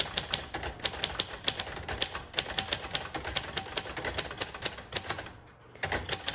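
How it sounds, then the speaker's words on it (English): Rapid typing on a 1956 Royal Quiet Deluxe manual typewriter, a close, crisp run of steady key strikes with a brief pause before the clacking resumes. "Back to typing."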